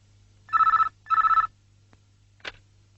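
An old-style telephone rings twice in quick trilling bursts, loud and close, followed by a short click.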